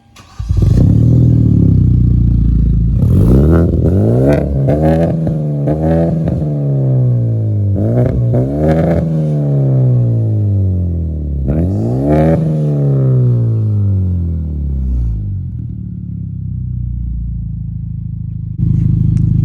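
A Genesis Coupe 2.0T with an ISR single-exit GT catback exhaust starts and revs repeatedly through a deep, rumbling exhaust, each blip rising and falling before settling to a low idle.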